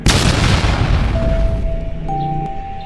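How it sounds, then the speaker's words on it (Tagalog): A loud, booming gunshot effect in a dramatic scene, a heavy blast that decays slowly into a lingering rumble with a faint tone ringing underneath. "Sobrang rinig ng putok ng baril"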